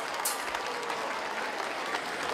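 Steady applause from an audience at an Independence Day celebration in a Fergana district stadium, a dense, continuous patter of clapping at moderate distance with no break.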